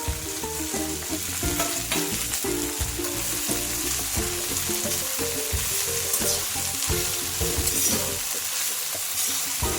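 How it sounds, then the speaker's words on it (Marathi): Finely chopped fenugreek leaves fry and sizzle in a pan on a home stove, stirred steadily with a utensil. The sizzle runs loud and continuous throughout, with repeated scraping strokes and no voices. "मेथी चांगली परतून घेणार आहे।"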